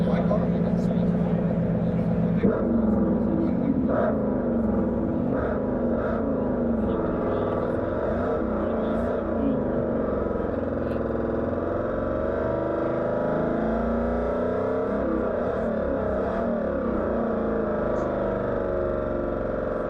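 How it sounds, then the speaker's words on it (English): Borla speakers on a Ford Lightning electric truck at SEMA playing a synthetic GT500 V8 engine sound, a loud continuous rumbling drone with revving swells, heard up close under steady crowd chatter. "So this is a GT500 coming out of your Ford Lightning."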